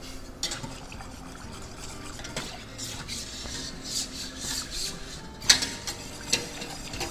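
Spoon stirring a pumpkin cream soup in a cooking pot: quiet, repeated scraping strokes against the pot bottom, with a few sharper clinks near the end, close and without talk.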